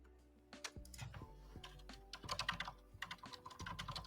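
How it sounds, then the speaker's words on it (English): Fast clicking on a computer keyboard during an online Blood on the Clocktower game, a steady close run of key taps in irregular bursts over a low background hum, with no talking. "Rapid typing."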